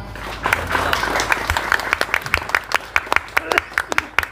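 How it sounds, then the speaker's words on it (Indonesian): Applause from a seated audience at an Islamic religious gathering in Indonesia, a dense patter of many hands that thins into scattered sharp claps toward the end, with faint voices beneath. "Tepuk tangan."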